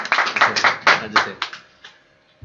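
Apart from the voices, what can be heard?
audience applause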